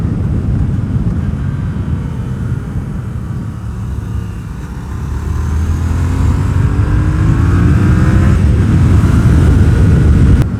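A Yamaha FZ-07 motorcycle carried through a sweeping corner in third gear, its engine droning loudly and steadily under wind noise, pitch easing then climbing as it pulls out of the bend.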